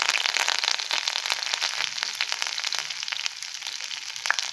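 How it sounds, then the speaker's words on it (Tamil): Curry leaves splutter and crackle in hot oil alongside ginger and green chili, a dense, steady hiss with sharp pops scattered throughout, close and alone. "கொஞ்சமாக கருவேப்பிலை சேர்த்துக்கிறேன்."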